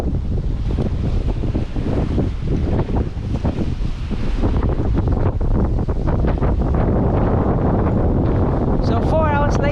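Steady wind roaring across the microphone aboard a reefed sailboat on Lagoa dos Patos in southern Brazil, loud and continuous with water rushing beneath, no voices.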